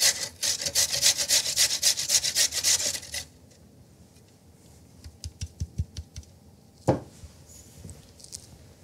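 Stored winter carrots grated by hand for a slaw give a fast series of rhythmic, rasping strokes that stop abruptly. Scattered quieter scrapes and a single knock follow.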